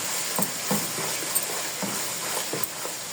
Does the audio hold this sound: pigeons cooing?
no